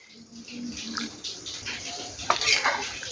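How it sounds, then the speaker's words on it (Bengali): Hot water left over from washing a pressure cooker is poured into paneer tadka dal cooking on a gas stove, a close watery splashing and gurgling that swells briefly near the end, with faint clinks of cookware. "এখন গ্যাসের ফ্লেম কমিয়ে দেবো, সাথে দেবো জল।"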